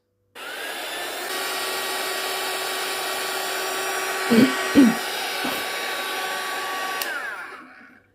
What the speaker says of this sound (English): So go around with the heat gun and move it while you are drying it.